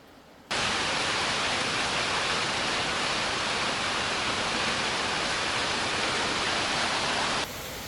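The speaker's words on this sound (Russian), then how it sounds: "Конечно, ливень жесть." Heavy rain pounding down in a thunderstorm, a loud, dense, unbroken hiss that starts abruptly and holds steady for about seven seconds before cutting back to a quieter background.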